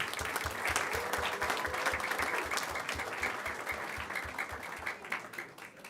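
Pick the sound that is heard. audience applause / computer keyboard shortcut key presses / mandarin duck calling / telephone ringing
audience applause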